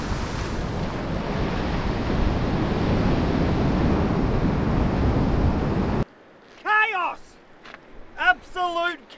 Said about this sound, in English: We've got big waves coming.